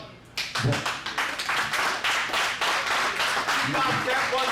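An audience claps steadily at a music-industry press conference for a single release, a dense run of many hands applauding close by for several seconds after a short quiet opening.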